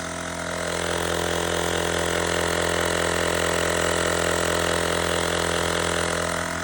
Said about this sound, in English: I shut the truck off so you could hear that this pump really is not that loud